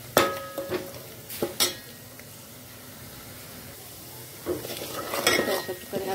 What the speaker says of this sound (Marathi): अशा प्रकारे हा कांदा छान भाजलेला आहे